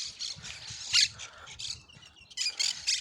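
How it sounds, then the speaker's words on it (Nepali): Parrots in a tree on a morning outdoors, giving repeated bright, shrill squawks and chatter in bursts, moderately near, with short pauses between calls. "प्यारेटहरू रहेछ, यो सबै सुगाहरू"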